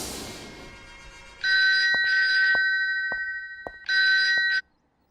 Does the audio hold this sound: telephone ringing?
yes